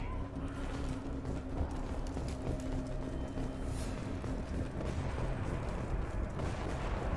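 Gunfire in the Mass Effect 2 video game: a steady burst of rapid shots and impacts in a game battle, fairly quiet and without talk.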